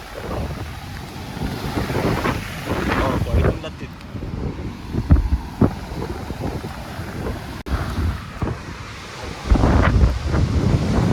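Gusty wind buffets the microphone in rushing bursts while a voice talks underneath.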